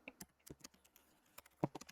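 Quiet, close keystrokes tap on a computer keyboard in an irregular rhythm, with one slightly louder key press near the end.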